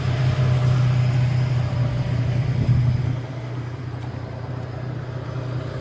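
1998 Toyota Tacoma with around 300,000 miles, engine held up on the gas during a foam cleaning treatment; a steady low rumbling drone, loud at first, then easing to a lower level partway through, with no talking.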